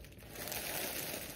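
A plastic bag crinkles as a full-body silicone baby doll is unwrapped, a close, continuous soft rustle that swells slightly and then holds steady.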